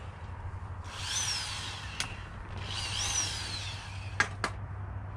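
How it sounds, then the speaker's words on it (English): A Makita finger sander, used during live chainsaw wood carving, whines up in two separate bursts of about a second each over a low steady hum, with a few sharp clicks and knocks in between. "Makita finger sander."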